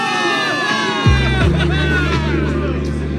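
A crowd roaring and cheering for victory in the video game Zenless Zone Zero, loud sustained shouts and whoops from many voices, joined by a deep booming swell partway through.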